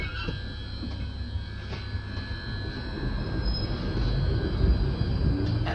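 A train at a London station, wheels squealing against the rails over a low steady rumble that builds slightly as it moves, with high metallic tones ringing throughout and no voices.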